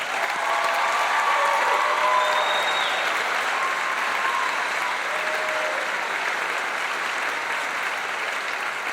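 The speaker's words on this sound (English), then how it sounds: "Round of applause, please." High school graduation audience applauding after the class names are read, a thick, even roar of many hands filling a large hall, sustained at a constant level without pause.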